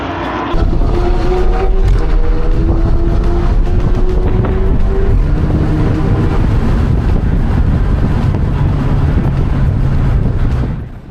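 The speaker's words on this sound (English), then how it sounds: "welcome to our first lap here at the Hockenheim Ring." An Alfa Romeo Giulia fitted with a big brake kit, lapping the Hockenheimring track, with a loud, sustained engine drone whose pitch rises and falls through gear changes, plus wind noise and no speech.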